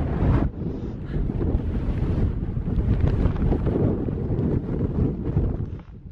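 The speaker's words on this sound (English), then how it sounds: "It's too windy to tell you anything" Loud, continuous wind blasting the microphone at the Nine Standards summit on a hike, a low rumbling roar with gusty buffeting throughout and no voices.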